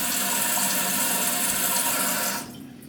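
A toilet tank refills after a bidet install, water rushing and hissing steadily at close range before the flow abruptly drops to a quieter trickle near the end, with no talking.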